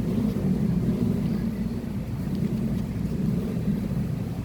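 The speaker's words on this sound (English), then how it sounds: "A lot of motorcycles out here." Motorcycles pass outside on a summer street in Brooklyn as a continuous low engine rumble, moderately loud and steady, with no talk over it.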